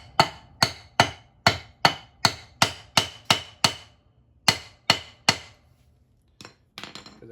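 Hammer blows on the rusted cylinder head of a Seadoo 787 engine, a dozen loud, sharp metallic strikes in an even rhythm, close, then a pause and a few lighter knocks.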